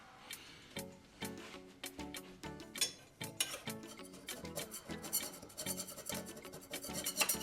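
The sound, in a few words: scrubbing dishes with a steel wool pad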